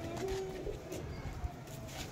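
Soft pigeon coos sound a few times against a faint background murmur, quiet and close by.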